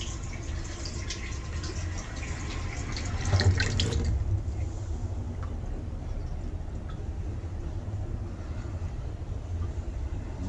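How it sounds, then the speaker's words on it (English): Water running from a tap, a steady hissing flow with a brief louder splash partway through, heard close and alone. "more water flowing."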